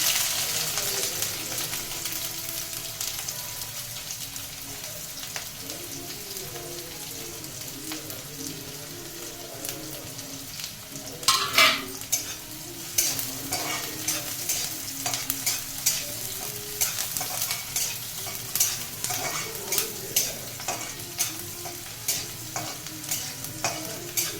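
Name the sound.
cumin, onions and green chillies frying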